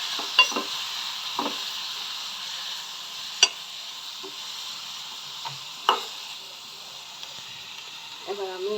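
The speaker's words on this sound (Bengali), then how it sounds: "এগুলোকে আমি ভালোভাবে তেলের মধ্যে কষিয়ে নেব" Chopped tomato and capsicum stirred in hot oil for a Bengali home-style dish, giving a steady soft sizzle with scattered scraping clicks of a spoon against the pan, ending in a brief clatter.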